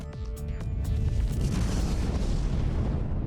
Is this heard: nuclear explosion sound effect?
yes